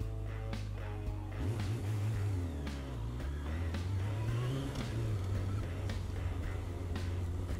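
A motorcycle engine on the road revs up and rises in pitch, then eases and climbs again, loud and close over wind rush, ridden at high speed and in need of an oil change.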